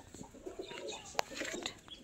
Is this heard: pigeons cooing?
yes